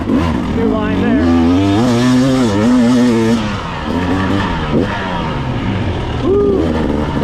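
A 2024 GasGas enduro motorcycle engine revs while riding, its pitch rising and falling through throttle blips, loud and close.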